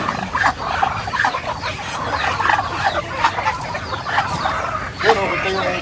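Pet chickens from a backyard flock cluck and squawk busily in a steady, close chorus, with people talking over them throughout.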